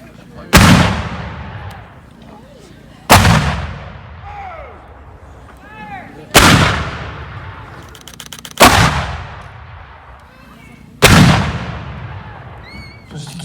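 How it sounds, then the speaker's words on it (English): Five 6-pounder cannons fire one after another at a Battle of Camden reenactment. Each blast is a loud, sharp boom that rolls and echoes as it fades, with about two and a half seconds between shots and some voices in between. "6-pounders were huge guns, and they would scare any soldier,"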